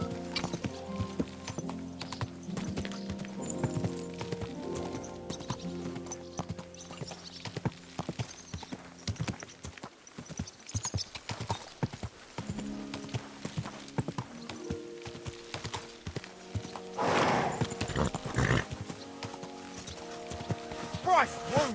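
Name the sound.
horse hooves clip-clop in video game Kingdom Come: Deliverance II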